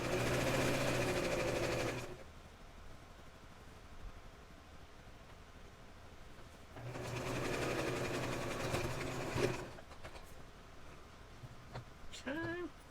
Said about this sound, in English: I'm just making sure that I'm not sewing on the other part of the fabric